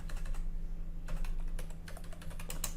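A computer keyboard is typed on in short bursts of quick key clicks, close and fairly quiet over a low steady hum.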